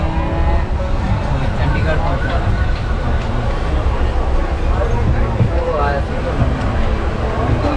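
A passenger train running at full speed at night, heard from inside as a loud, constant rumble and rattle with murmuring voices in the carriage.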